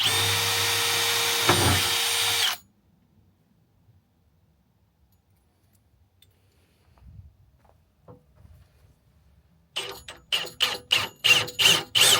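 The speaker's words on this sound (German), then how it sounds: "Und jetzt bohre ich zuerst vor mit dem dünnen Bohrer und danach mit dem großen nach." A power drill whirs loudly for a couple of seconds, then quiet with faint handling noises, followed by short repeated bursts of drilling, first pre-drilling with a thin bit, then widening the hole with a larger bit.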